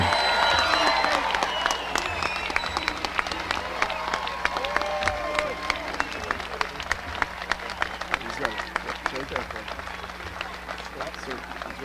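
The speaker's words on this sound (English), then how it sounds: "Let's have a great big round of applause for the graduating class of 2017" A commencement crowd gives a long round of applause for the graduating class of 2017, dense clapping with some cheering that stays steady for several seconds, with voices over it.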